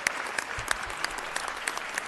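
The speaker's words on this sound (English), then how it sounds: "Let's give them a round of applause." Brief scattered applause from a small group at a Los Angeles city council meeting during a Blacks in Cinema Day presentation, with sharp individual claps standing out over a soft room murmur.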